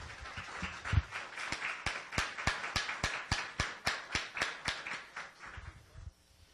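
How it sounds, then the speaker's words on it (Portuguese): A church congregation at Igreja Novo Pacto claps together in a steady, even rhythm, about a dozen crisp beats that build and hold before breaking off. The sound is faint and distant. "Vamos dar uma salva de palmas bem bonita para o nosso Deus"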